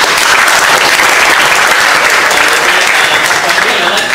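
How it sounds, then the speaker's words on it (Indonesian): Loud, steady applause from a forum audience in a hall, continuous clapping filling the whole stretch without a break after a leadership panel talk. "Tepuk tangan buat Kang Bima."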